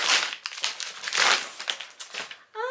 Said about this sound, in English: So let's unwrap the first book.